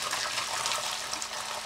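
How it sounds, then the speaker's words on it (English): Homemade stock poured through a strainer, a steady broadband rush of liquid splashing for under two seconds, close and fairly loud with no pauses. "You always want to strain out your stock. You pour it in here like this"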